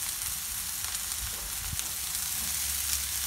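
Onions fry in oil over a low-medium flame, giving a continuous soft hissing sizzle with faint crackles and a light knock or two from the pan, steady throughout and fairly quiet.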